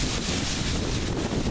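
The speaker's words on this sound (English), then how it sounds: "Gives you an idea of how strong that wind is." Strong thunderstorm winds, estimated near 50 mph, roar in a steady, loud broadband rush with heavy buffeting on the microphone, continuous and without speech.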